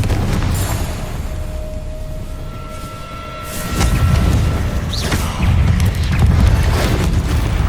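Blasting-curse explosions in the Hogwarts Legacy video game, with heavy low booms and rumbling bursts at close range, swelling in two waves over a continuous noisy bed of magical effects.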